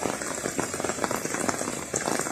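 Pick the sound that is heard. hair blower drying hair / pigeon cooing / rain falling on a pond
rain falling on a pond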